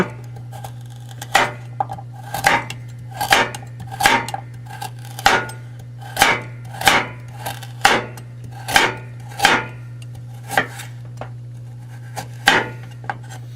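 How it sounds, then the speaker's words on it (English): A chef's knife from an iMarku kitchen set chops food on a cutting board in sharp, evenly spaced strikes about once a second over a low, steady background hum. "I'll go ahead and cut this up in much the same fashion as I did before"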